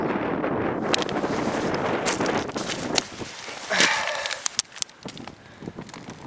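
Strong wind buffets the microphone on a rocky beach at Saltwick Bay in Yorkshire, a continuous roaring gust that eases slightly near the end, with faint crunching steps or handling noises.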